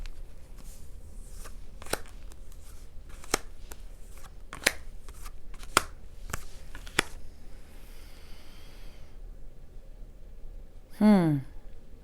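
Tarot card deck being shuffled: a string of quick, crisp riffles and taps over about seven seconds, fairly close, then a quiet pause before a short burst of a voice at the end.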